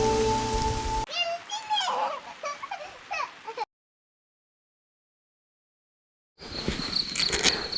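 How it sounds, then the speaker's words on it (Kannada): Steady rain falls in the Western Ghats near Kudremukh, a dense hiss broken by clicks and chirps, then cut by a long silent gap before the rain resumes. "ಮಳೆ ಶುರುವಾಯ್ತು"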